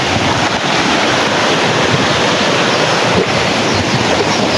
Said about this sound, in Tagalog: sobrang lakas talaga ng ulan, no?